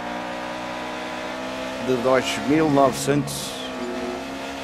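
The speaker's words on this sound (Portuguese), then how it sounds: "Era um motor Ford Cosworth" A McLaren M23-D with a Ford Cosworth engine in the racing game F1 2019, engine droning steadily with a couple of sharp revving swells midway, while a voice talks over it.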